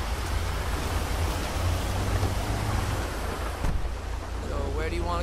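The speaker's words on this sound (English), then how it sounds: "I love the rain." Steady rain pours in a Grand Theft Auto 5 gameplay scene, a broad continuous hiss with soft washing swells that runs unbroken and fairly close throughout.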